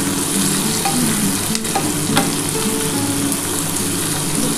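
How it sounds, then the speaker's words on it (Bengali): Pointed gourd frying in a pan with small shrimp to be added, a loud steady sizzle with stirring scrapes, close and without talk. "একটুখানি ভাজা ভাজা হোক"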